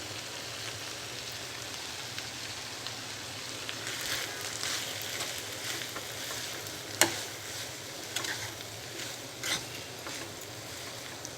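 Potato pieces and tender tamarind leaves cook in a pan with a soft, even sizzle, joined by a few sharp clicks and taps from stirring against the pan. The sound stays quiet throughout.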